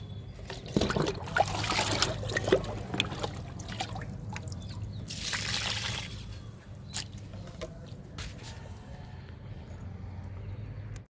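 Water pours from a mug onto a potted plant in summer. A soft trickle and dribble runs close by for several seconds, with a few light knocks and rustles and no speech.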